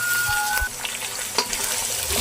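Chicken pieces frying in hot oil in a pan for an aloo gobi chicken dish, a dense steady sizzle with occasional clinks and scrapes, close and loud.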